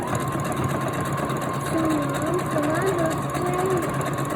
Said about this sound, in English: I am sewing this and gonna finish it up